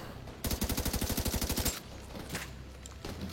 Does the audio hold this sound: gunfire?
yes